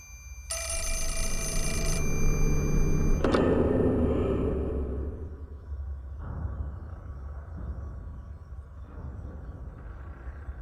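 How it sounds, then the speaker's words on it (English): An old telephone rings in a haunted building in Fatal Frame 4, one loud bell ring followed by a click and a fading low rumble. "First, though, we have a ringing telephone."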